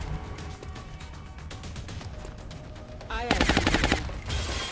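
Laser pistol shots fired in the strategy video game XCOM Long War, heard as a short burst of rapid, bright zapping pulses toward the end over a constant game background.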